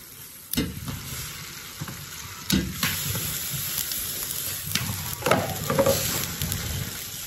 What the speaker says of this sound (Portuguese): O molho já tá fervendo